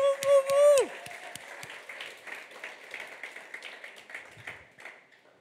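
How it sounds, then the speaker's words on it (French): An audience claps and applauds during a church worship service at ICF Lausanne, honouring the praise team. The applause comes as a steady, moderately loud patter of many hands. A bright musical tone rings out at the start, then fades. "On va encore vous applaudir une fois."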